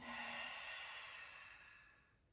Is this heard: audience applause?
no